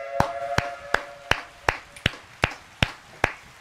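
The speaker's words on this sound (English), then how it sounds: "don't ever snap like that again. It's in place of a clap." Nine crisp finger snaps in a steady, even rhythm, each a sharp click over a faint background hum.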